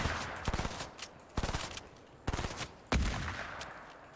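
Gunfire in a video game, several short bursts of automatic shots at a moderate distance arriving in separate clusters with pauses between them, fairly loud, no talk over them.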